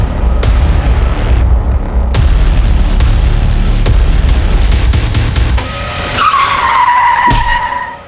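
A car skidding hard on the road as it runs someone over in a crime drama accident scene, loud roaring engine and rumble with sharp impacts, ending in a rising tyre screech.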